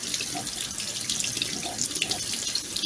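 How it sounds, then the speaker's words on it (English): Corned beef rinsed under a running kitchen tap: a steady, close hiss of flowing water spattering over the meat in the sink, continuous and even throughout with no talk. "First things first, a quick rinse to get all the curing salts and excess spices"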